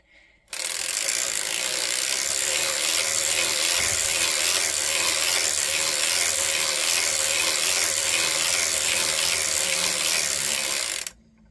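A circular sock knitting machine being cranked, a loud continuous rapid mechanical ratcheting clatter of needles that starts abruptly, runs steadily for about ten seconds, then stops.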